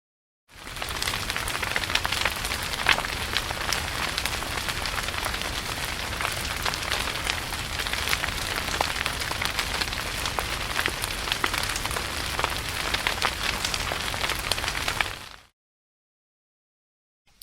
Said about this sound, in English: a forest fire sound I downloaded from freesoundhub.com